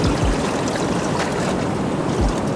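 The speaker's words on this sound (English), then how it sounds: "we've actually got some waves coming" Ocean waves surge and break on a shore in steady broadband rushing, with low swells rolling in a couple of times, recorded outdoors with some wind buffeting.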